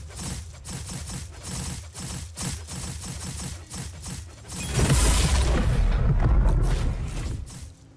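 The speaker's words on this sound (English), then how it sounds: "It shot the fireball." In a dungeon-crawling video game during a floor-one boss fight, rhythmic thumping combat effects give way to a loud, rumbling fireball explosion that swells and lingers for a few seconds.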